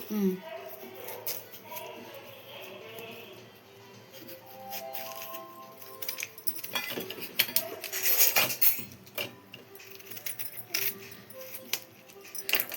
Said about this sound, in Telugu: ఇప్పుడైతే దోసకాయ కట్ చేసుకుందాం మనం